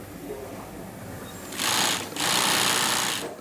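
Industrial sewing machine zigzag stitching the backs of ballet shoes together, heard in two short loud bursts of rapid whirring separated by a brief gap, over a quiet factory hum.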